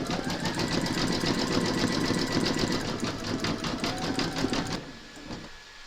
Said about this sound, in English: you're going to stitch round number 6, and that's going to zigzag and then do the satin stitching.